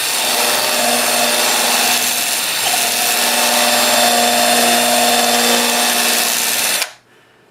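An elm wood bowl spins on a lathe as a tool is leaned in to round off a sharp barkless edge, a loud steady whirring hum with a scraping tone that stops abruptly near the end.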